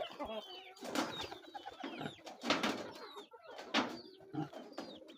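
Pigeons coo in soft, repeated throaty calls close by, overlapping one another, with some rustling and faint fluttering between calls.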